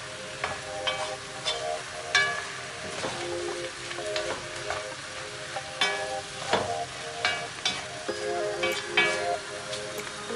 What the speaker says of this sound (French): Je vais remuer la marmite.